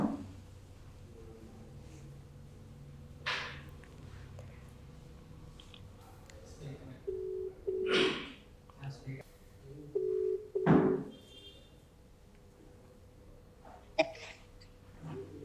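A phone call being placed, with faint tones and beeps from the handset in a quiet room, low murmurs and background noise around them.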